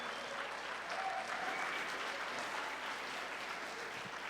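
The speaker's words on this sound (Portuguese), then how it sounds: "Será que você pode dar uma salva de palmas para os teus pastores?" Large audience at a church youth event applauding pastors, a dense, steady wash of clapping and crowd noise throughout.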